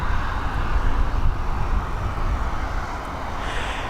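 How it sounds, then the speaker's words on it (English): A Helvetic Airways Embraer E195 jet departs Dublin Airport's runway 10R, a loud broadband engine roar holding steady at close range, with no speech. "Here we go, this Helvetic Airways heading over to Zurich. The Embraer E195."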